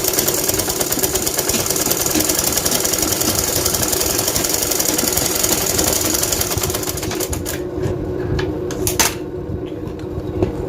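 Sewing machine running continuously as it stitches the armhole of a lehenga blouse, a dense, close, rapid mechanical rattle that holds steady throughout before tapering off toward the end.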